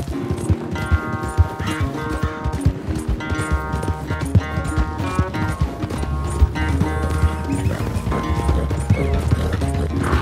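Horses gallop hard in a race in Red Dead Redemption 2, hooves pounding rapidly under a loud, continuous musical score that fills the whole stretch.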